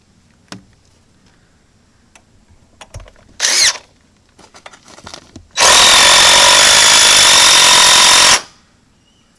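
Power drill driving SDS structural screws into a joist hanger, a short burst followed by a loud sustained whirring run of about three seconds, amid scattered knocks and handling clatter.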